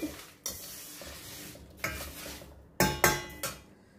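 Sesame seeds stirred in a hot kadai with the stove off, a spoon scraping and clinking against the metal in several separate strokes over a faint residual sizzle, close by with no talk.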